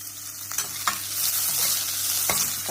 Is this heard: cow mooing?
no